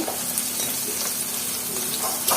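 Garlic and onion frying with salt in a pan, a steady, close crackling sizzle that holds evenly throughout with small popping spurts.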